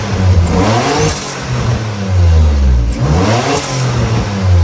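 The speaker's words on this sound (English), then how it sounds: "Listen to that spool. And then the blow-off valve." Turbocharged Nissan 350Z engine rising and falling in repeated pulls, loud and close, with the turbo spool building and brief hissing bursts like a blow-off valve between revs, no talking.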